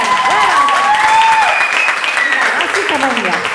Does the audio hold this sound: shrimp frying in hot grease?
no